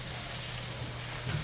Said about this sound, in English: Throws in the onions.